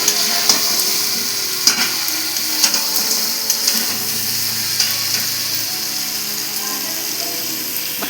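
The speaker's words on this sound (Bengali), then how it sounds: "এবার সমস্ত মাছগুলো দিয়ে দেব মাছ দিয়ে মাছ দিয়ে একটু নাড়াচাড়া করে" Fish pieces stirred in spiced oil in a pan for a Bengali fish curry, giving a steady close sizzle broken by sharp clicks and scrapes from the stirring utensil, with no talking.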